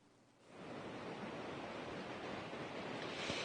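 Ocean waves rolling onto the beach at Pântano do Sul as the sea advances during a cyclone, a steady broad wash rising in after a quieter start and holding without speech.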